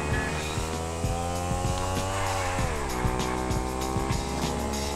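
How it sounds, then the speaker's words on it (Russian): Super fast motorcycle racing along a road in GTA 5, engine revving loud and steady with pitch rising and falling through gear shifts, tire noise underneath, continuous throughout. "Просто на супер быстром мотоцикле"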